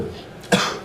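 A single short cough from a flu patient with chills and sweats in a Boston hospital during a flu outbreak, close and fairly loud, standing alone with no talk.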